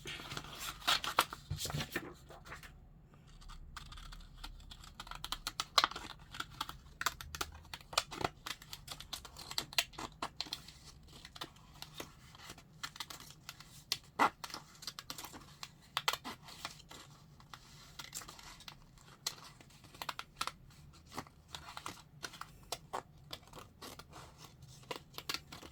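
Scissors snip through paper for a botanical journal in a long, irregular series of close, crisp cuts and rustles, some rapid and clustered, others spaced apart, with a quiet room behind.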